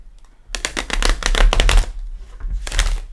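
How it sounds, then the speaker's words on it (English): A Crystal Vision tarot deck is shuffled by hand at close range, giving a steady run of dense riffling card flutters that pause briefly before one more short burst. "We'll give them a shuffle."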